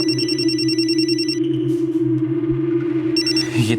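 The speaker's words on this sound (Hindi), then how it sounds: "ये दोपहर से चौथी बार फोन कर रही है" A telephone ringing indoors with a bright electronic trill that repeats, pauses for about two seconds, then starts again, clear and fairly loud over a steady low hum.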